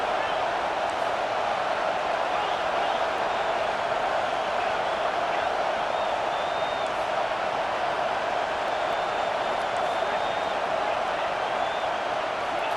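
A steady, dense roar from a home crowd cheering during a third-down defensive stand in EA Sports College Football 25. It holds at an even level throughout without any clear peaks.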